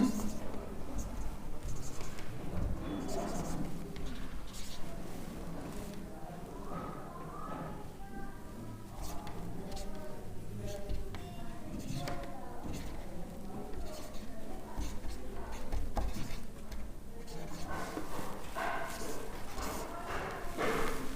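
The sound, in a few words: writing on a board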